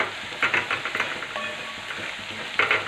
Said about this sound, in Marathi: त्यामध्ये आता मी अर्धा चमचा घेतलेला जिरं घालून घेणार आहे